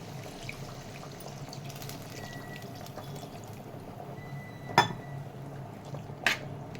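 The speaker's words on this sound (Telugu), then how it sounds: "నేనైతే కొంచెం వాటర్ వేసేస్తున్నాను" Water is poured into a tomato and cucumber curry simmering in a pot, a steady, moderate pour with a couple of sharp metallic clinks from the pot and utensils.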